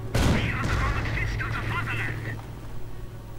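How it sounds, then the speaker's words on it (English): A StuG assault gun fires in a World War II strategy video game, one sharp loud blast followed by a long rumbling decay, with game voices chattering under it. "The Stug happily firing away."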